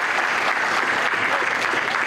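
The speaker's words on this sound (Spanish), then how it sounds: "hacemos un fuerte aplauso también al Padre que nos ha presidido en la misa" Applause for a priest after a Catholic Mass with mariachi musicians present: a congregation claps steadily and densely, with no gaps across the whole stretch.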